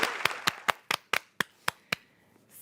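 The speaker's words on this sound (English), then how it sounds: "Let's give them another round of applause." A single person claps slowly, about nine sharp, evenly spaced claps, close and distinct, with quiet between them.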